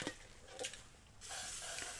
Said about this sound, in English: I am going to spray my cup with the WD-40 silicone spray